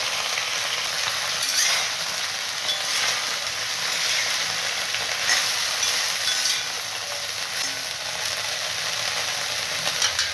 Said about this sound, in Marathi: आता हे निथळून ब्रोकली याच्यामध्ये काय करते दोन मिनिट परतणार आहे वाफून घेणार आहे थोडंसं